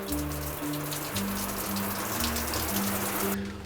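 Rain shower head running into the bathtub of a 350-square-foot tiny house, a steady close hiss of spraying water, stopping abruptly at the end, with a low tonal hum beneath.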